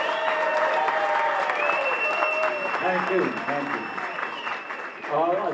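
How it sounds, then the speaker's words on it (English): A crowd at the New York State Boxing Hall of Fame induction applauds an inductee with sustained, dense clapping and murmuring throughout, while someone speaks over it. "let's give him a big round of applause"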